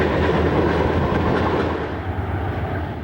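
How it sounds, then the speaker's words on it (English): A freight train led by a Rio Grande GP40 and a Cotton Belt GP40R rumbles close by at Roseville, loud and steady with wheel clatter, easing slightly toward the end. "The Rockland Rocket returns to Roseville with a Rio Grande GP40 and a Cotton Belt GP40R."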